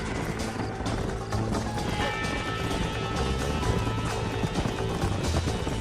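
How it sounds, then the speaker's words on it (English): Horse hooves gallop in the Western video game Red Dead Redemption, a steady rapid clatter of hoofbeats running under a dense, continuous game soundscape throughout. "Get on your horse, boy! Follow me."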